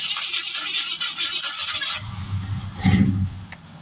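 A 1973 Mercury Montego's engine bursts into a rough, loud rev with a hissing, rattling burnout, then drops off before a second heavy surge of engine roar.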